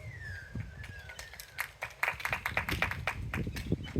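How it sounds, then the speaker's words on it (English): Wedding guests at a mock wedding ceremony give a round of scattered, uneven hand claps that build slightly over about four seconds, with a faint high tone running briefly early on. "Can we get a round of applause?"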